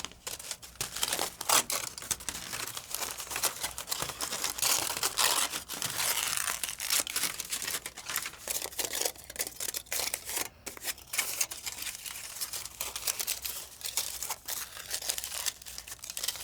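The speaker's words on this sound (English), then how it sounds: "Get a little bit more foil." Aluminium foil being torn from a roll and crumpled by hand around a plate for a classroom cooling project, a steady run of close crinkling and ripping noises with no talking.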